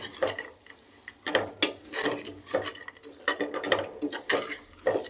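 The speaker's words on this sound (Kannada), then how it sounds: "ಚೆನ್ನಾಗಿ 1-2 ನಿಮಿಷ ಚೆನ್ನಾಗಿ ಫ್ರೈ ಆಗಬೇಕದು" A spoon scrapes and clatters against a pan while masala fries in a pressure cooker for a sambar-style curry, in uneven bursts of stirring over a soft sizzle.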